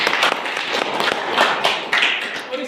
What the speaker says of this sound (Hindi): एक बार जोरदार ताली चाहूंगा।